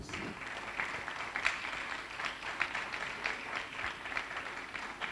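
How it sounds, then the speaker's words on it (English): An audience at a university technology week event applauds to welcome a speaker, a soft, even wash of clapping that holds steadily throughout at a moderate distance. "So shall we welcome him with a round of applause?"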